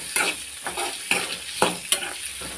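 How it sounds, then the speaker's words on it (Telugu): Boiled eggs fry in a pan of hot oil, a continuous sizzle broken by several sharp scraping stirs at a steady pace. "దానికి సరిపడంత నేను ఫ్రై చేసుకుంటున్నాను."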